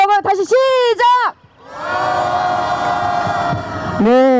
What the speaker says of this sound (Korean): 함성이 너무 적어요